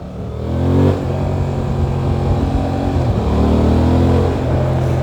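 A Honda Transalp motorcycle engine drones loud and close, dropping in pitch twice as gears are shifted down, each drop followed by the engine's steady note again.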